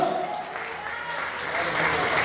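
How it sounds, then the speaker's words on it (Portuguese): A church congregation applauds through a worship service, a steady wash of clapping held at an even level with a voice speaking over it. "Você pode aplaudir o nome do Senhor"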